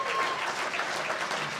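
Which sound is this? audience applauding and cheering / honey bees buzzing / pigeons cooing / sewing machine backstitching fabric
audience applauding and cheering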